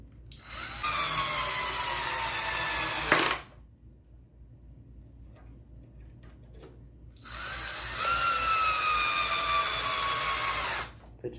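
A power drill drives screws into a wooden tufting frame in two bursts of a few seconds each, its motor whining and rising in pitch under load, with quiet handling clicks in the pause between.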